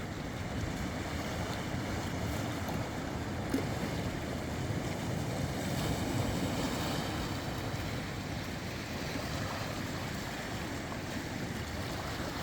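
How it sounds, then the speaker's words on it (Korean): Sea waves roll and break on the shore of Gijang beach on the East Sea coast in Busan, a continuous rushing wash with wind, steady and fairly close, with no voices. "지금 기장 해변 파도소리 너울 바다에 해변가 바다에 부딪히는 소리 좋습니다."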